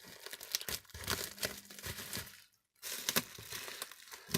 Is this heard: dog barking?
no